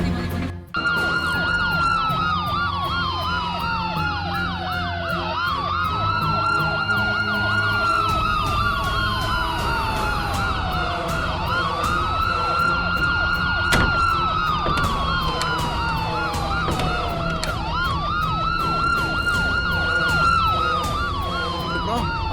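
An ambulance siren wails continuously in repeating rising and falling sweeps, loud and close, with steady traffic and road noise beneath it throughout.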